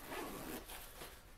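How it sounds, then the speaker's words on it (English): A zipper runs closed on the carrying case of a Harbinger MLS900 line array PA speaker, one steady continuous rasp close by, fairly quiet and with no talking. "Zip it up."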